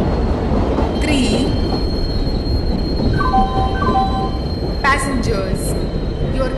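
A train running in the Indian Train Simulator game, a steady loud rumble of wheels on rails with high squeals and tones, under a station announcement voice.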